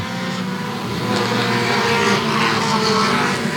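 Race cars roar around an oval short track at Sauble Speedway during a three-wide battle in a Dash for Cash feature, engines droning loud and continuous with no talk over them.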